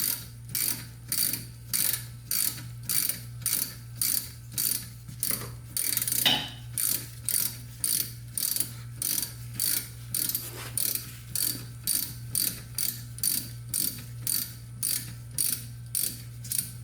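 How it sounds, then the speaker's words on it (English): Steady clicking of a 7mm socket ratchet working bolts loose on a BMW E46 during a rear wheel bearing job, a quiet, regular ratchet rhythm repeating evenly for over fifteen seconds with no talking. "Then you're going to need a 7mm socket."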